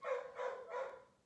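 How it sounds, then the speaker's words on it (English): Three quick muffled barks in a row from a small dog, faint and somewhat distant. "do you hear a little barking?"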